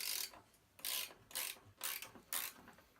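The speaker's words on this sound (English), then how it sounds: "you're just going to go ahead and take your front tire off using a 15mm wrench" A 15mm wrench ratchets in short bursts while loosening the front wheel nuts of a Sondors electric bike, five quick clicking runs separated by brief pauses, close and fairly quiet.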